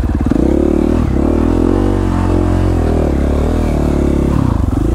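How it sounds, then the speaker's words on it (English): A KTM 450 four-stroke dirt bike engine chugs loudly at low speed on steep, rocky mountain single track, a close, steady low throbbing with slight surges in revs. "When you're going really slow, this bike does have a kind of a chug-along feel."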